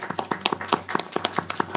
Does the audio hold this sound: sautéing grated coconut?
no